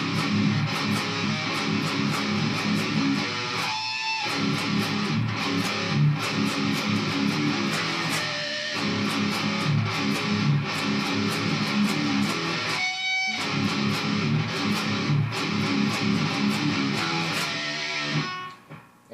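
Distorted electric guitar plays an interlude at normal tempo over drums, with loud rhythmic chugging, repeated accented hits and brief gaps, no voices.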